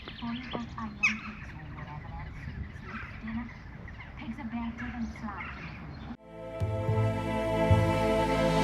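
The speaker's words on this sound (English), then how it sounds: "I don't know if you can hear all the birds chattering away." Many birds chatter and call over one another in a busy outdoor chorus, some honking like geese, before a sudden cut to a different, denser sound.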